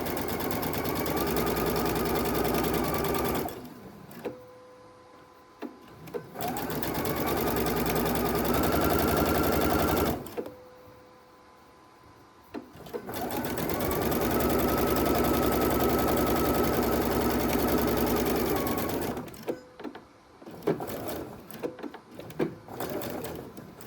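A sewing machine stitches a ribbon strap in three long, steady motor runs, each a close, even hum broken by short pauses and a few brief clicks between bursts.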